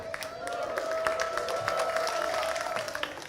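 Applause from a church congregation mixes with crowd noise, a steady moderate clapping patter with a sustained ringing tone underneath, while someone speaks over it.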